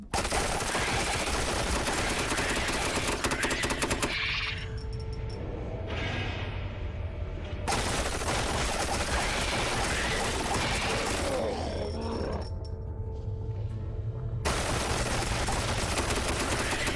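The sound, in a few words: deployed turrets firing in the video game Restricted Area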